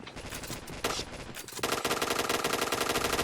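Automatic gunfire in the shooter game Point Blank, a dense run of rapid shots that starts moderately and grows louder and more continuous partway through, with no talking.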